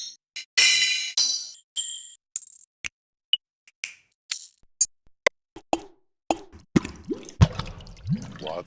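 Water-drip samples from a percussion sound library are played one after another as sharp, isolated plops and droplet clicks separated by silence, becoming quicker and denser toward the end.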